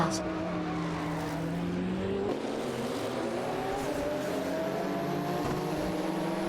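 Race cars in a racing video game, including a Ferrari F40 Competition and a Porsche 961 LM, roar loudly and continuously, engines droning and shifting pitch as several cars run close together, with possible faint tire squeal and no speech.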